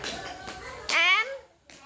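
Children clap their hands during a classroom name-clapping game, with a few sharp claps mixed among young voices.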